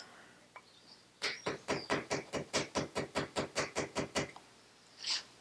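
A hammer taps a bolt on a Firebird project car in about fifteen quick, evenly spaced metallic strikes at close range, each one sharp and ringing, with one soft knock just before and a single thump after.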